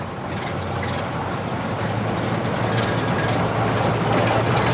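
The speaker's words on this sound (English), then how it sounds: "we're very pleased to see Terry here with his S21 four-wheeler today" A restored Foden S21 four-wheeler lorry from around 1960 rumbles at a vintage vehicle parade, its diesel engine a steady, close drone building slightly in loudness over a few seconds, with no talk.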